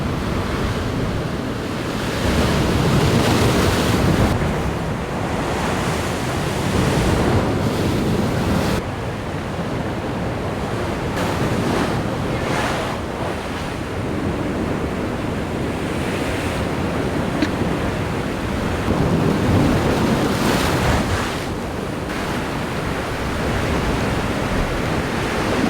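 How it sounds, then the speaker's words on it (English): Ocean swell pounds against the rocks at a rock fishing spot on the Australian coast, a loud and continuous roar of breaking surf that rises and falls in waves, mixed with gusts of wind on the microphone. "there is a bit of swell pounding in, so we do have to be careful"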